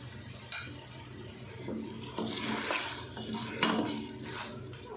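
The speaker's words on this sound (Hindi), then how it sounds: "टमाटर डाल देते हैं।" Tomatoes go into a pot of beef that has been browned in oil for a spiced beef masala curry, giving a soft wet sizzle with a few clinks of a metal spoon against the pot, moderately close and with no talk.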